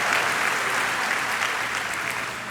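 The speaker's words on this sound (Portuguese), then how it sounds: "Vamos dar uma salva de palmas" Church congregation applauding at a worship service, a dense, steady wash of many hands clapping throughout, moderately loud and without pauses.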